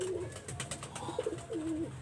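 A pair of golden pigeons with white legs cooing close by, several soft throaty coos in uneven bursts, with light clicks and rustling around them.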